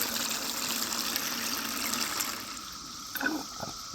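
Water drains and trickles steadily from a Gold Cube gold concentrator during a West Virginia gold and black sand clean-up, a continuous near wash that thins out toward the end, with a couple of faint knocks.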